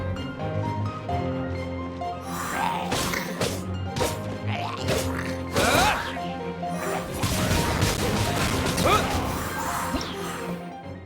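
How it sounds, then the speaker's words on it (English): Explosive barrels get shot and blown up in Genshin Impact, bringing a cluster of loud smashing crashes and whacks amid busy game music and effects, with a voice briefly heard over the action. "Are those explosive barrels over there? Well, one shot should be able to blow them up."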